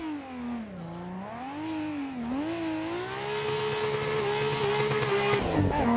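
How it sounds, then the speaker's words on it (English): A Nissan 240SX with a 1JZ engine drifts, its engine wailing and swinging in pitch as the throttle rises and falls, then holding a loud, steady high rev, close by. "Let's watch it drift here real quick, and then we'll drag the wall"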